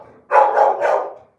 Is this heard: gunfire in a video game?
no